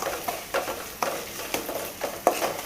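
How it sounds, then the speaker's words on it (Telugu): Ginger garlic paste being stirred as it fries with onions in a pan, with regular scraping strokes roughly every half second and a soft sizzle underneath, no talking. "ఇప్పుడు మనం అల్లం వెల్లుల్లిపాయ పేస్ట్ వేగే వరకు బాగా కలుపుకుందాం."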